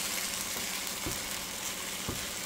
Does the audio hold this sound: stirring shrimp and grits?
yes